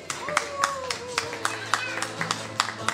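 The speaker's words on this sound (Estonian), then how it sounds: "Aplaus!" Audience members at the Miss World Estonia 2021 crowning clap in scattered, fairly regular bursts under a host's voice, sounding modest and nearby rather than like a roaring crowd.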